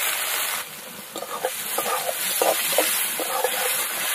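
Chopped onion fries in oil with bay leaves, dried red chillies, whole garam masala and sugar, hissing in a dense, continuous sizzle with soft stirring scrapes throughout.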